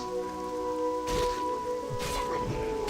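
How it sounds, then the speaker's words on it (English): Ambient rain falls in World of Warcraft Classic while questing in Ashenvale, a soft steady patter under sustained music tones, with a few brief swells of heavier splashing. "I like the ambient rain noise."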